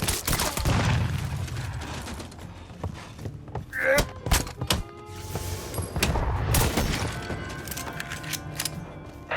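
Grenade blasts and bursts of gunfire from the Mafia 3 video game, with loud booming thuds and rapid shots crowding one another in a chaotic firefight, and voices shouting in the middle of it.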